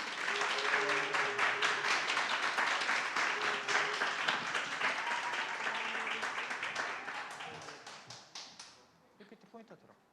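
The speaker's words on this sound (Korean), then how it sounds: "박수!" A school audience gives steady, dense applause for a sixth-grade student presenter. It lasts about nine seconds, with faint voices underneath, then thins to a few scattered claps.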